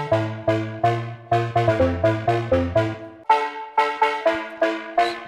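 A bright synth lead in FL Studio plays a short future house riff of plucked, repeating notes with full low end left in, loud and alone with a bouncy rhythm.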